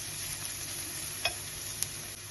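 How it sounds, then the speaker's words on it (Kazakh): Onion and carrots fry in a little oil with a steady, even sizzle up close, broken by two faint clicks. "жақсылап қуырып аламыз."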